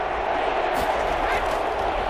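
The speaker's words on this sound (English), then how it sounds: "The crowd here in the Dome making things difficult." Simulated stadium crowd noise inside the Dome in an EA Sports NFL football game, a dense, steady roar of cheering that swells slightly partway through and stays broad and continuous.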